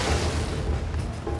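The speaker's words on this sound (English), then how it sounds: "Watch for cannon fire" A sustained deep boom of cannon fire in the feudal-Japan stealth game Shadow Tactics: Blades of the Shogun, loud and rumbling with no clear separate shots and no talk.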